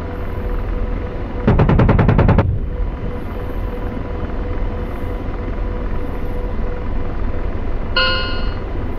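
The gun of an Apache Longbow helicopter fires in a VR flight game as a loud, rapid burst of about a second, over a constant rotor drone, followed later by a brief ringing electronic tone.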